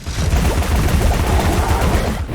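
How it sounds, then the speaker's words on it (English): A dense, continuous burst of rapid gunfire-like popping from a pepper-shooting gun in the video game Alice: Madness Returns, loud and close, rattling on without pause for a couple of seconds. "a gun that shoots pepper"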